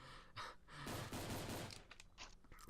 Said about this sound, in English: So I just finish him off with my tack rifle